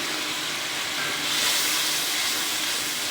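Spices sizzle steadily in a hot pan for a pangas fish curry with bottle gourd, a continuous broadband hiss that swells slightly midway, close and alone with no talk.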